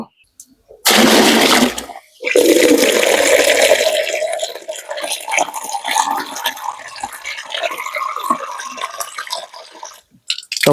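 Eight litres of clean water gush loudly into a container for mixing broiler chick vaccine, pause briefly, then pour again with splashing that gradually settles into softer trickling and sloshing.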